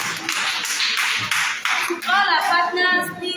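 Audience clapping for themselves, broadband bursts of applause filling the first two seconds, then giving way to a speaking voice that carries on over the remaining noise.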